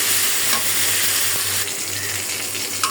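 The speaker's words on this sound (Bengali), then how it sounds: "এদিকে একটা আলু আর বেগুন হালকা করে ভেজে নিই" Potato and eggplant fry lightly in a pan with a steady, close hiss of hot oil that hardly changes, broken now and then by a soft clink of the spatula.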